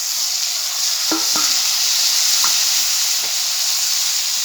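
Malabar spinach leaves frying in a wok with shrimp and onions, a loud bright steady sizzle with a few sharp scrapes and clinks as they are stirred, close up with no voices.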